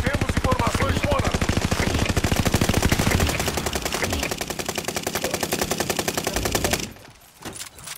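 Automatic gunfire from Call of Duty Modern Warfare rattles in loud, rapid, sustained bursts for about seven seconds, then cuts out into quieter scattered noises.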